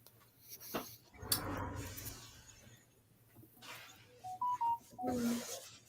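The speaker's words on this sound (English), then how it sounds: "That's my phone." A phone gives a short run of electronic tones, several quick beeps stepping in pitch, at moderate level amid rustling and brief clatter in a room.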